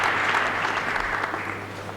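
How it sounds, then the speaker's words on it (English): A bowling crowd at a world cup men's final applauds steadily, a dense, even wash of clapping over two seconds. "The crowd gives him a little encouragement."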